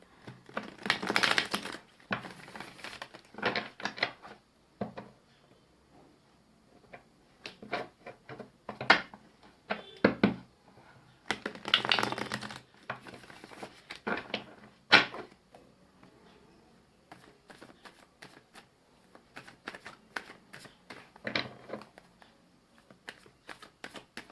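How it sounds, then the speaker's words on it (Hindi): Tarot cards shuffled and drawn from a deck, quick bursts of riffling and slapping card sounds with soft taps and pauses between them, close and fairly quiet, no talking. "यहाँ से दूसरे डेक से मैं 4 कार्ड्स निकालूंगी"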